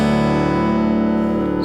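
A guitar tuned to a DADF#BE open D6/9 tuning rings out as one strummed chord, loud and sustained, its open strings humming steadily with no talk over it.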